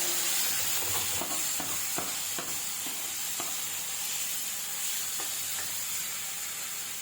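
Onions and tomato fry in a pan with a steady, close hiss and sizzle throughout, broken by occasional soft clicks and stirring taps.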